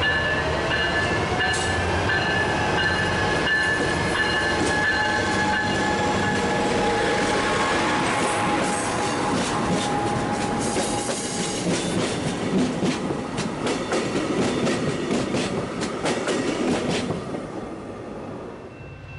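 A passenger train hauled by a Siemens Charger diesel locomotive rolls past close by with a steady, fairly quiet rumble, rhythmic wheel clatter and faint squeals, fading slightly at the end.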